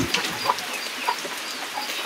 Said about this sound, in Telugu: ఇప్పుడు చూడండి ఎలా తింటున్నాయి కోళ్ళు అయితే